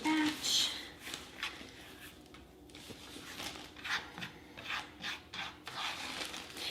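Potatoes rubbed against a box grater give a series of soft, scratchy rasping strokes at an uneven rhythm, fairly close but low in level, with a voice speaking faintly in places.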